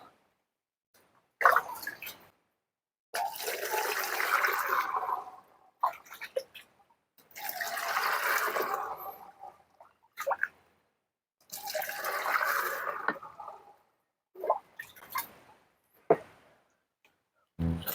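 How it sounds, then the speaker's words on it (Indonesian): Water poured in several separate bursts into a pesticide sprayer tank for chili crops, a rushing splashing fill heard up close with brief pauses between pours and no talking. "saya akan masukkan air ke dalam tangki sebanyak 2-5 liter terlebih dahulu"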